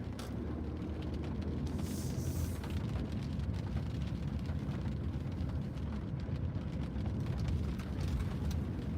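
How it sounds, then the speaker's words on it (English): Rain falls outside an open window, a steady dense wash of drops that stays loud and even throughout, with no talk. "I opened the window right now and rain got in my eye."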